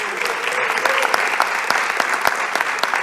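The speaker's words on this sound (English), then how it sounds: "Let's have another round of applause for Dr. Paul Gothold." An audience at a foundation event gives a round of applause for a speaker: sustained, dense clapping that carries evenly from start to finish.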